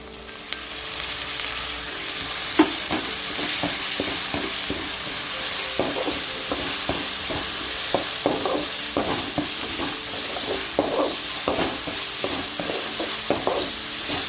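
Onion and tomato sauté in a pan for a bitter gourd thokku, with a constant sizzle and a long run of regular spatula scrapes and clacks against the metal, close and fairly loud, with no talking.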